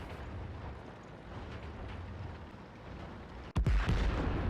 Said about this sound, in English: That was a nice shot from the E4